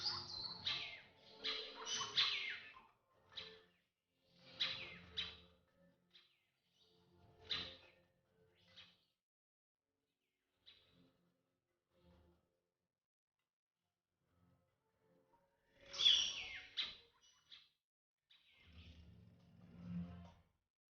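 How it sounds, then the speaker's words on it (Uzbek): A fierce bird calls in a jungle wildlife setting, loud harsh bursts arriving in quick clusters, then a long quiet stretch before another sharp burst and a lower call close by. "Vajohatli qush bu yerda kim xo'jayin ekanini ko'rsatib qo'ymoqchi."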